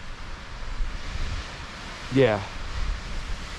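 Blustery wind on an exposed hiking trail produces a steady, rough, noisy rush against the microphone, with a brief spoken word partway through.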